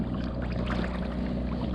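A kayak fitted with a small electric motor moves across the water on a spearfishing outing, giving a steady, close hum mixed with continuous water wash and no voices.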